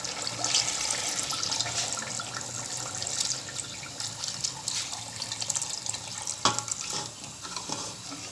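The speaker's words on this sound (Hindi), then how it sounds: "ये जो हमारी यखनी थी ये हम इसमें डाल देंगे" Yakhni broth pours into a pot of Lahori beef paya, a steady liquid splashing and gurgling stream running continuously with a few sharper splashes near the end.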